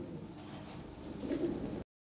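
A Lahori toy-breed pigeon coos softly and steadily at close range, a low murmuring call against faint room noise, cutting off abruptly.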